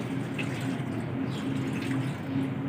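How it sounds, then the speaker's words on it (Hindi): Water from a bottle trickles steadily onto potting soil in a plant pot, a close, continuous pouring and splashing wash with no voices. "इस बोतल में भी थोड़ा सा पानी डालकर मिट्टी गीली कर लेते हैं।"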